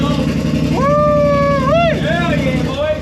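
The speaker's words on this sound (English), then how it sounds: "who's ready to hear this exhaust?" A Polaris RZR Turbo S with an aftermarket Assassins Captain's Choice exhaust revs up loudly and close, its engine rising in pitch, holding, then climbing sharply in a quick blip before dropping back to a rumbling idle.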